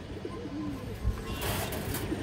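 Pigeons cooing nearby, a few low soft rolling coos over a faint background hum, brief and close.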